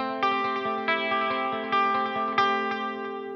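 An electric guitar played through a ZUTA GBG120 rackmount amp rings out in sustained, effect-laden chords, struck several times with rhythmic picked attacks, loud and clear with no talking.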